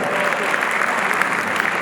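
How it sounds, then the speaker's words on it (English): Audience applause at a heritage association gala, a dense, steady roar of many hands clapping close and loud throughout. "Let's give people a round of applause."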